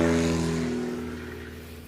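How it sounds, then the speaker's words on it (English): A 2009 Murphy Super Rebel light plane's engine drones loud and steady at an airport practice event, a strong harmonic hum that fades slightly as it goes. "That's a big plane."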